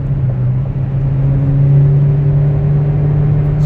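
A 1992 Toyota Corolla DX engine holds a steady, high-revving drone, loud and close with a constant hum and no voices.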